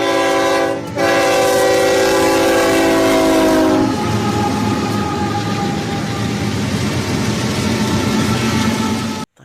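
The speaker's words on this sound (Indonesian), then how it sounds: "Ada gerbong kereta nih, adik, penariknya atau lokomotif yang pertama" A train locomotive pulling railway carriages sounds a loud, sustained horn blast for about four seconds, then a steady rolling rumble with rhythmic rail clatter as the cars pass close by.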